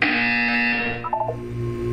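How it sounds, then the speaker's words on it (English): A loud, steady electronic buzzer from the video game Portal 2 drones for about two seconds, holding a harsh tone with a brief wavering in the middle before it continues. "You will hear a buzzer."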